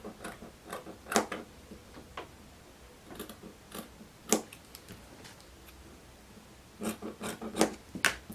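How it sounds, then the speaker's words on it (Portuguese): Scissors snipping through fabric while cutting out a DIY blouse with a seam allowance, a series of short crisp rasping cuts in irregular clusters, close and fairly quiet with no talking. "Aí continuo cortando com margem de costura"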